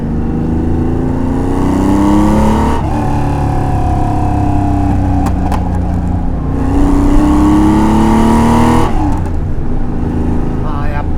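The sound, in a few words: Porsche 911 T SC RS RSR engine, street driving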